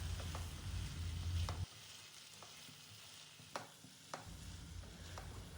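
Stir-fried vegetables with spring onions get a final mix in a pan after the flame is turned off, a soft low sizzle with a few scraping stirs, quiet and close.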